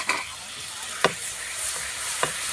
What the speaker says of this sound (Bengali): দেখুন মশলাটা কষা হয়ে গেছে, এবার আমি জল দিয়ে দেবো।